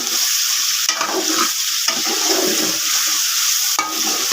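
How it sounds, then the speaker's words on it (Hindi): Chicken frying in oil for nihari, a steady loud sizzle throughout with a few brief stirring scrapes, close, with no talking. "इसको आपने इस तरह ऑयल में अच्छे तरीके से भून लेना है"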